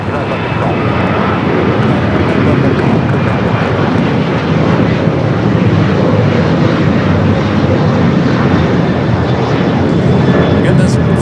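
An Airbus A350-900 bound for Paris Orly roars at LAX airport, a loud, steady jet engine rumble sustained throughout, with a voice talking over it.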